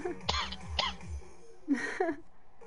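A few short bursts of coughing from smoke, two close together and then another pair after a pause, fairly close and moderately loud.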